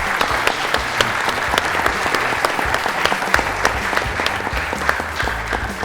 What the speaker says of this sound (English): let's end by just giving these guys a round of applause for being so honest